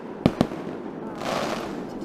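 Two sharp firework bangs crack in quick succession, near and loud, followed by a softer crackling rush as the display continues outdoors.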